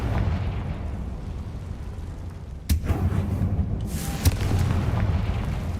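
Confringo spell explosions in a Harry Potter video game, two sharp bursts with a booming crack over a rumbling background of game ambience, fairly close and loud.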